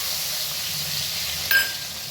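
Garlic sizzles in hot oil in a wok along with mustard seeds, asafoetida and turmeric, making a steady close hiss of frying with one brief crackle partway through.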